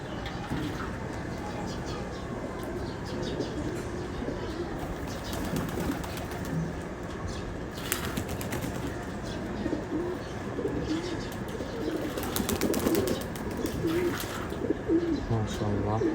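Several pigeons in a home flock coo continuously at close range. Their soft, overlapping calls come with occasional flutters and background bustle.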